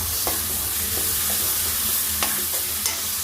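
A spoon stirs an egg, potato and tomato curry in a pan, making repeated scraping clicks over a steady low sizzle, close and moderately loud with no talking.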